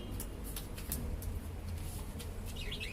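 Small pet birds chirp with light, quick tweets over a constant low room hum, fairly close but soft, with a brief cluster of chirps toward the end.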